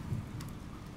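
Rain falls in the game Oxenfree as a steady, soft, low hiss, faint and alone for a brief moment.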